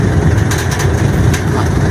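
A loaded motor vehicle engine labours on a steep mountain road, a steady low rumble and drone that runs continuously and fairly loud throughout.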